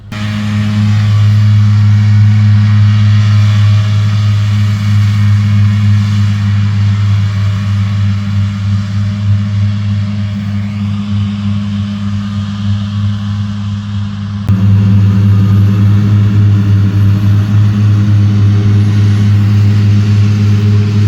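A Claas farm machine runs during hay mowing, a loud, steady engine drone with a strong low hum that holds constant, then briefly drops and resumes at the same level.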